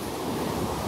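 Rough ocean surf breaking at a beach at Playa Tembo in Oaxaca, a steady loud wash of churning waves with a continuous roar and some wind buffeting, no voices.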